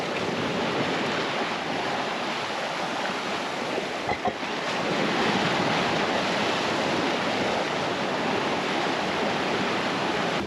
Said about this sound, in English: Luckily the sea isn't that rough right now, but it looks like a little washing machine.